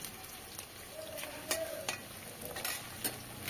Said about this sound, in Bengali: হালকা করে আলতো করে নেড়ে দিতে হবে